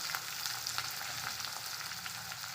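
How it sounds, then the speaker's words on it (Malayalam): Small shallots, about five to eight chopped, fry in hot oil alongside curry leaves while cooking a long-bean stir-fry, giving a steady close sizzle with faint crackles throughout and no voices. "ഈ ചെറിയ ഉള്ളി ഒരു ഗോൾഡൻ കളറാവുന്ന വരെ ഒന്ന് വഴറ്റി കൊടുക്കുക"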